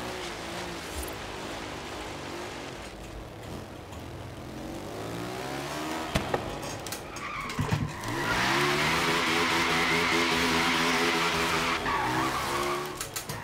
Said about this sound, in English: pulling off a J-turn in this thing